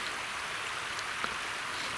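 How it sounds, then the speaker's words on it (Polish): A mountain stream rushes along the floor of a forested Tatra valley in the lower montane zone, making a steady, even wash of water noise that stays moderately loud throughout with no voices. "Tutaj mamy na dole potok lejowy, który płynie dnem doliny"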